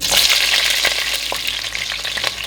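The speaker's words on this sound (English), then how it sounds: "I'm gonna go ahead and fry up some potatoes to make some fries." Loud, close sizzling and crackling of potatoes shallow frying in hot oil for fries, with occasional stirring scrapes and pops throughout.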